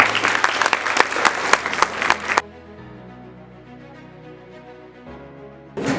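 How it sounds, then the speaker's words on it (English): Clapping at a school awards ceremony for students, with sharp individual claps up close for about two seconds before it cuts off, followed by a quiet low hum. "Round of applause for these awesome students."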